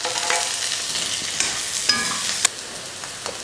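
Sautéed brinjal with sliced onion and green chili sizzles in a hot pan, a soft continuous frying hiss broken by a few sharp spatula scrapes and clicks.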